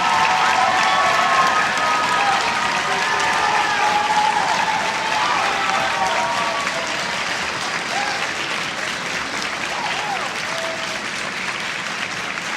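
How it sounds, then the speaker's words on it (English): A school audience at an orchestra senior night gives the conductor a big round of applause, loud and dense clapping with some crowd noise and faint voices, gradually easing slightly toward the end. "I'd like him to come out and give him a big round of applause"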